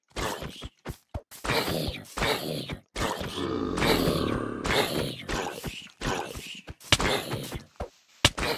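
Zombie grunting in the Minecraft video game, a run of low guttural groans and thuds in bursts, close and loud, with a player's voice reacting at points.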